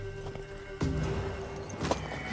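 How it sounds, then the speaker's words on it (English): The hooves of a mare in the video game The Witcher 3 clop along with a soft, steady rhythm. A few sharper hoof strikes stand out over a low ambient game backdrop. "The mare is yours."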